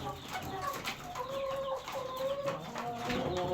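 Young chickens under three months old cluck and chirp steadily throughout a poultry coop on a farm, with several overlapping calls close by and a busy background of birds and no talking.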